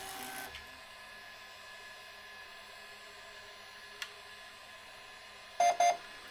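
A Bambu Lab A1 Mini 3D printer gives two short, clear beeps in quick succession near the end, following a faint mechanical click and a steady low machine hum.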